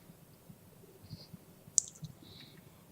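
A computer mouse gives a few soft clicks in a quiet room, with one sharper, more distinct click in the middle.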